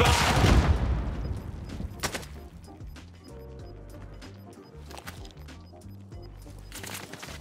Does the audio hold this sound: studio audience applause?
no